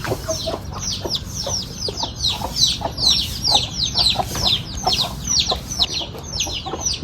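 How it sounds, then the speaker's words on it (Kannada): Many chicks peep and cheep continuously in rapid, high chirps, close by on a farm, with some lower clucking mixed underneath. "ಇದಾವೆ ಕೋಳಿ ಪಿಳ್ಳೆಗಳು"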